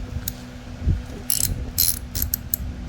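A torque wrench tightens a bolt during an oil change on a Honda Grom, giving a few quick, close ratcheting clicks in short bursts over a low background rumble.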